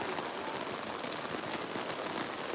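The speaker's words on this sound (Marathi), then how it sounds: "सकाळपासून जोरदार पाऊस पडतो आहे" Heavy rain pours steadily in Virar, a dense unbroken hiss with no pauses and no voices.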